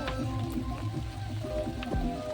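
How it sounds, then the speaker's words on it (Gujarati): Steady rain falls over farmland, a dense, even patter that stays constant throughout with no voices. "જો ગાઈસ વરસાદ તો આવે છે"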